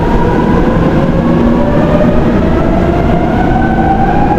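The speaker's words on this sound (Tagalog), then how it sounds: "Yan yung sinakyan natin MRT." A Manila MRT metro train at Magallanes station rumbles past close by, loud and continuous, with a rising whine and a steady rolling roar of wheels on track.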